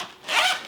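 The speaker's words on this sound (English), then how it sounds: "There's little zippers." Small zipper on a PGYTECH or LowePro camera backpack, pulled once in a brief close rasping stroke that swells and fades within a second, with no voices.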